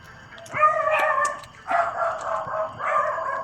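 A dog barks and yips in three drawn-out, whiny bursts at close range in a quiet night setting, with no talk during the sounds.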